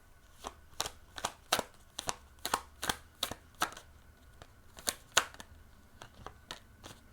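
Tarot cards being shuffled and drawn, a series of sharp, crisp snaps and riffles in an uneven rhythm, close and clear against a quiet background.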